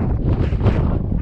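Strong wind on the open plains of Kansas buffets the microphone in a loud, continuous low roar with gusty surges.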